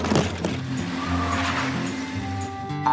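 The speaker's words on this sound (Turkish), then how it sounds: "Bakın, kamyon geldi." A cartoon truck rolls in with a steady engine drone and a brief tire squeal, loud and continuous over a bright musical backing.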